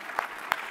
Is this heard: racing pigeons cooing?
no